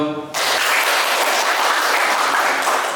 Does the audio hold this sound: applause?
yes